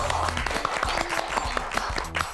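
A crowd claps and applauds in a quick burst of overlapping hand claps before a dance performance, fairly close and lively.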